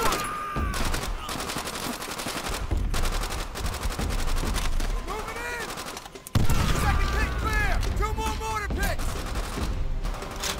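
Bursts of rifle and machine-gun fire in the Call of Duty: World at War battle at Shuri Castle, loud and near, with rapid volleys and a sharp jump in intensity midway, overlaid by music and occasional voices.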